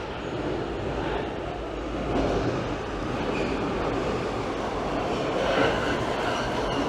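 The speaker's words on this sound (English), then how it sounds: "we're gonna take a look at the train coming in" An Amsterdam metro train rumbles steadily into a station, a dense continuous roar with rattling wheels and a slight swell midway, no voices.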